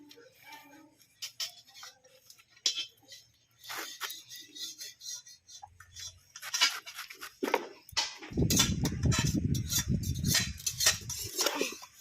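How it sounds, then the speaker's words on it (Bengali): Fresh bottle gourd leaves are chopped with a knife in a village kitchen: scattered light taps first, then a dense, rapid run of chopping strokes that grows louder toward the end. "এবার আমি লাউ শাকগুলোকে কুচিয়ে নেব"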